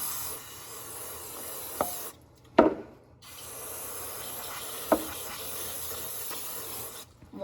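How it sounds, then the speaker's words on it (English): Gumout brake cleaner hisses from an aerosol can around the transmission bolts of an FK7 Honda Civic in long steady sprays, broken by a short pause and a few sharp clicks. "I'm just gonna use a little bit of the gum out brake cleaner just to clean around the bolts and clean up this area"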